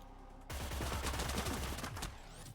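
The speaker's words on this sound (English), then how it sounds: "And you're probably going to hear the gun." Gunfire erupts in the Cyber Knights: Flashpoint video game, a loud, dense burst of rapid automatic shots that starts abruptly and rattles on for about two seconds before easing off.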